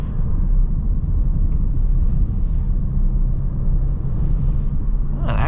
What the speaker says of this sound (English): Lots and lots of turbo noises from this car, especially at the lower RPMs.